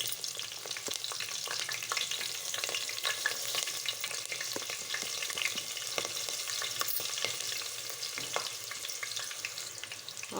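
Green chilies frying in a pan while tomato rice is being made, a continuous crackling sizzle with frequent sharp pops and spatters and some stirring, close and fairly loud, with no voices.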